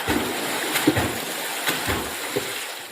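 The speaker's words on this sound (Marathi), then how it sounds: "डुबुक डुबुक आवाज काढलो, उडी मारल्या, पाण्यात हलवलो." Splashing and jumping in well water: a few soft splashes and sloshes at irregular intervals against a steady wet background, close by, with no talk.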